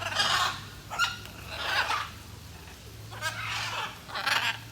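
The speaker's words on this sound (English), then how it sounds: "A whole bunch of parrots here." A flock of parrots at a zoo calls in repeated harsh, squawking bursts at a moderate distance, spaced about a second apart over a constant low hum.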